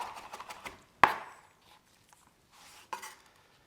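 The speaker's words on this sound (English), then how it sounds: "I'm just going to rock my blade on this for a little bit so I can get it nice and cut down" A knife rocks and chops through garlic on a cutting board: a few light taps, one sharp close knock, then quieter scattered cuts, with no talking.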